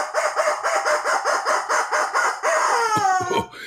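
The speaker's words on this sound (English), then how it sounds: "And the rubber chicken says..." A rubber chicken squawk, a long series of loud, evenly pulsed honking squeals that rise into a higher stretched wail near the end, close and alone.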